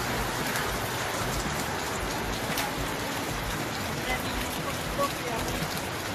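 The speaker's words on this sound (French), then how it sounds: "En plus il pleut de plus en plus." Steady rain falls during a 26 km trail race on a road stretch of the Trail des Cagous, a dense, even patter of drops filling the whole clip at close range, with a few faint breathy sounds underneath.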